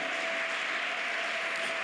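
A church congregation applauding and cheering during a morning worship service: a dense, continuous wash of clapping and crowd noise, steady throughout with no pauses.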